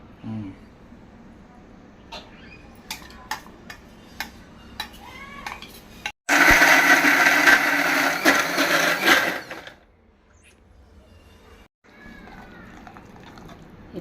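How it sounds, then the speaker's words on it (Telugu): A kitchen mixer grinder grinds fenugreek and mustard seeds for tomato pickle, a loud whirring burst lasting about three seconds before cutting off. Clinks and taps of utensils come before and after it at a quieter level. "మిక్సీ కూడా చేసుకున్నాం మిక్సీ కూడా పట్టేసాము"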